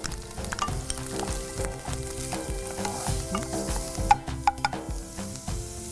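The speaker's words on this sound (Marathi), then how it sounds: "तर लसूण थोडासा परतून झाला की त्याच्यामध्ये लगेच कांदा घाल" Two small, finely chopped onions fry with garlic in a hot pan for surnachi bhaaji, a steady close sizzle and crackle with occasional spoon scrapes and clinks running throughout, no talking.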